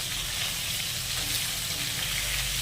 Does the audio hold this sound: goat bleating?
no